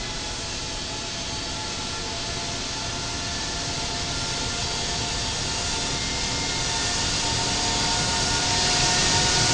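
Steady, loud jet roar at Hurghada International Airport, a continuous broadband rumble that swells slightly toward the end, with no voices over it.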